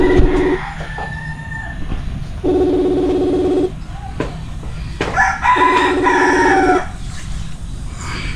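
A rooster crows repeatedly nearby, three long ringing calls with gaps between them, joined by clucking and other fowl sounds and a brief voice in the background.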